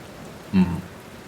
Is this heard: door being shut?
no